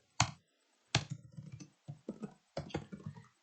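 Typing on a computer keyboard while writing code: a few sharp, close keystroke clicks, then short clustered bursts of tapping, with quiet pauses between them and no talking.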